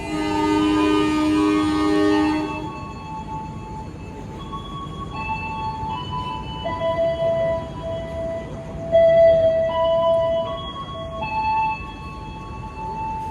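The KA Jayakarta train's horn, sounded by locomotive 204, opens with a loud, rich tonal blast lasting about two seconds, followed by thinner, wavering whistle-like tones and rumbling rail noise.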